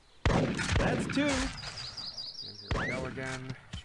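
Big Buck Hunter Pro video game: sharp gunshot bursts ring out alongside repeated high bird chirps and tweets, with someone talking over the game sounds.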